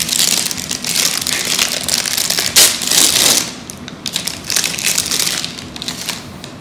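A large plastic bag holding a LOL Surprise doll is opened, giving loud, close crinkling and crushing of thin plastic that runs steadily, with a brief louder rustle midway and no voice.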